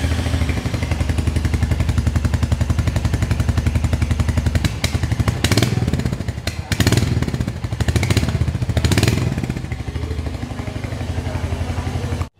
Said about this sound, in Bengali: চলুন সবার আগে এক্সো সাউন্ড একবার শোনা যাক।